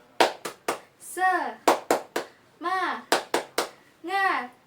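Schoolchildren in a third-grade class perform the rhythmic spirit clap: three sharp, close hand claps, then a chanted word from young voices, repeated three times in an even pattern.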